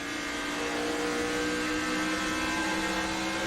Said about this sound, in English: Engine is still running, but he slowed considerably down the front stretch.